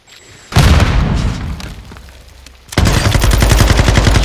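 A grenade explosion in the video game Modern Warfare II booms loudly and close, then a fast burst of rapid gunfire rattles in at the end, with no talk.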